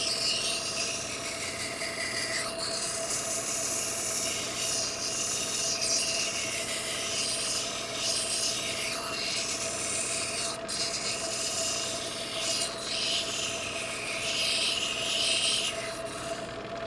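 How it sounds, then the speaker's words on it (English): A stone cabochon is held against a grinding wheel and ground down to a marked line, giving a continuous close abrasive hiss over a steady motor whine, with brief rubbing variations. "grind right down to that line"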